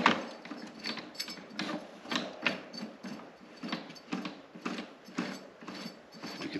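Drive wheels of a Husqvarna AWD lawn mower turned by hand with the drive belt removed, giving a steady run of close mechanical clicking and ratcheting, rising in repeated pulses, with no talk.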